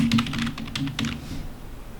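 Fast typing on a computer keyboard fills the first second and a half with dense, close clatter, then fades to quiet with no voice.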